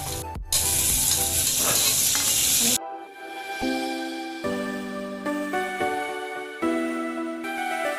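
Tomatoes drop into hot oil with browned onion and curry leaves and set off a loud burst of sizzling and stirring. It then fades to a quieter crackle with a high ringing tone.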